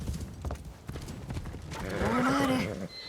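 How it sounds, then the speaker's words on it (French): Horse hooves clip-clopping in Assassin's Creed Shadows, followed by a loud whinnying neigh near the end, with a voice talking over the start. "Le cheval, calme-toi s'il te plaît."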